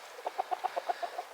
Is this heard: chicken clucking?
yes